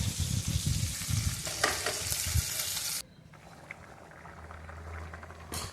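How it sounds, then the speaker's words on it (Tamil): Fish curry simmering in a pan with ginger-garlic paste, turmeric and chili powder, giving a steady close sizzle and bubble that drops to a quieter low bubbling partway through. "குழம்பு கொதிச்சிருச்சு."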